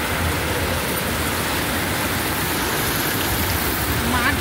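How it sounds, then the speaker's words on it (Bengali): Heavy torrential rain pouring onto a flooded field, a dense, even roar of water that fills the whole clip. "মুষলধারা বৃষ্টি চলছে, মুষলধারা।"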